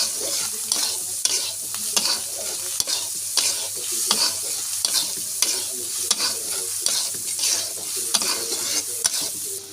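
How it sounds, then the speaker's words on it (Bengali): Potato, onion and egg fry in a pan for a noodle snack, with a steady close sizzle broken by repeated rhythmic scrapes of a spatula stirring throughout, and no talking. "সুন্দর করে আলু পেঁয়াজ ডিম ভেজে নিব।"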